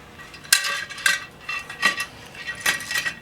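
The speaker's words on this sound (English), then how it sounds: "pick the rim up" Metal bicycle wheel rim with spokes being picked up and flipped over, giving a few sharp metallic clinks and rattles spaced about half a second apart, close and moderately loud with no talk.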